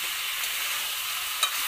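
Basmati rice being stirred and fried with spice paste in a pan for Bengali-style masala khichuri: a steady, close sizzling hiss with one brief scrape of the spoon near the end, no voices.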